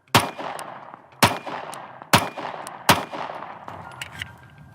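Sharp pistol shots from a Sig Sauer P365 X-Macro and a Glock G43X, four loud close reports about a second apart, each followed by a short ringing decay.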